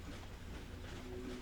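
A train rumbles during a train sequence in the video game Ratchet and Clank, a steady low drone with faint rolling rail noise and a brief hiss, with no talking.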